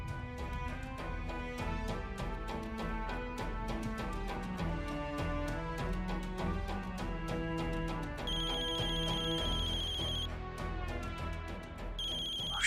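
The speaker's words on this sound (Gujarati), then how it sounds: "શૌર્યનો ફોન." A phone ringtone plays as a melodic electronic tune that repeats steadily for several seconds, with an added higher beeping layer near the end, and no one speaks over it.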